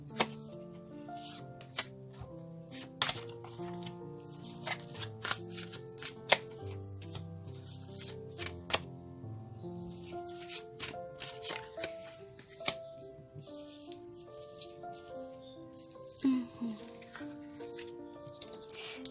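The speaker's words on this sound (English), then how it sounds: "One more shuffle, they say." Tarot cards being shuffled by hand, repeated crisp riffling and tapping bursts over a sustained backdrop of soft melodic music, with brief louder snaps scattered throughout.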